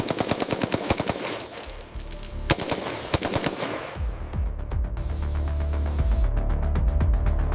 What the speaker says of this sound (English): We measure the cyclic rate, ensuring it falls within the 700 to 900 rounds per minute range, and verify the 3-round burst mechanism.